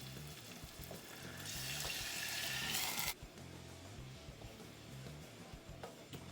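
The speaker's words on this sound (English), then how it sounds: "We'll pour in a 1/2 cup of tequila" Half a cup of tequila streams into a sauce, a soft hissing pour that swells for a few seconds and then stops abruptly, leaving a faint background sizzle and light kitchen clatter.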